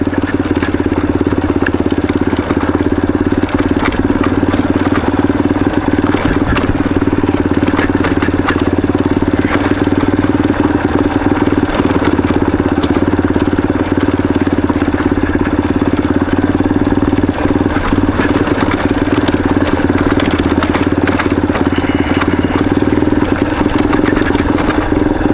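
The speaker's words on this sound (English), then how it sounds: "I'm gonna let some engine braking take me down this little rocky little hill." A motorcycle engine rumbles steadily and crackles as it engine-brakes down a small rocky hill near Suches, a continuous close, loud drone over rough terrain with no talk.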